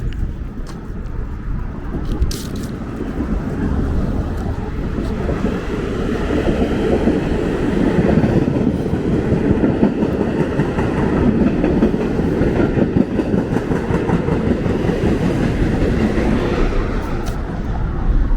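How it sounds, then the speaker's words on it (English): A subway train on the N line in Brooklyn rumbles past close by below, a loud continuous roar with rhythmic clattering of wheels over the rails. "Matter of fact, there is a train"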